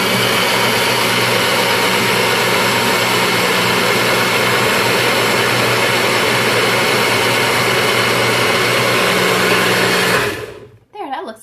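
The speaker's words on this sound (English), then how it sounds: "I'm going to let it blend." Blender whirring at full speed while blending almond milk, a loud steady roaring drone that holds for about ten seconds, then cuts off and winds down.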